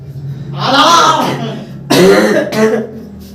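Two harsh coughs close up, the first drawn out and the second shorter with a quick follow-up, in an otherwise quiet room.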